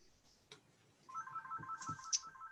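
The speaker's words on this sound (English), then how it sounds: "Sorry, this phone keeps ringing." A telephone rings during a city council meeting, its electronic tone starting partway in and warbling steadily at moderate volume, with faint room noise and a few soft thumps around it.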